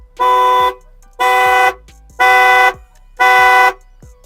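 A Volvo V50 car alarm honks the horn four times in a steady rhythm, each blast loud and about half a second long, with short gaps between.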